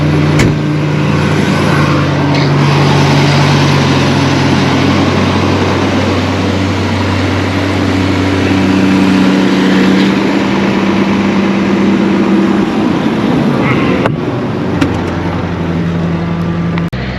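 A rough tractor engine runs steadily throughout, with a low droning hum and some shifts in pitch, loud and close, with no voices.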